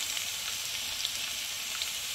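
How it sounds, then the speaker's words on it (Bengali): Dried chilies and bay leaves fry in mustard oil in a frying pan, a constant soft bubbling sizzle with faint scattered pops, heard up close and with no talking. "আমি একটা ফ্রাই প্যানে সরিষার তেল, শুকনা মরিচ এবং তেজপাতা দিয়েছি।"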